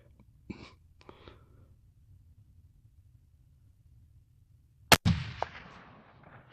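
A single sharp, loud hunting rifle shot fired at a mule deer in open Wyoming country cracks out after near silence, followed by a brief echoing tail; faint soft noises precede it.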